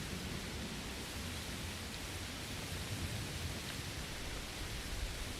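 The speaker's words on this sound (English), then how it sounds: "it's fucking raining like cats and dogs" Heavy rain pours down during a storm in a video game, a dense, steady hiss that fills the scene from start to finish with no voices over it.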